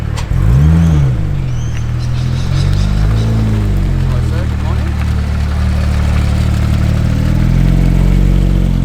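A Porsche GT3 RS sports car rolls past with a deep engine rumble and rising, falling tones, fairly close and loud, with people talking over it.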